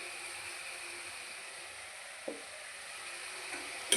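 Garlic and curry leaves sauté in a pan with a faint, steady sizzle, broken by an occasional soft clink or stir.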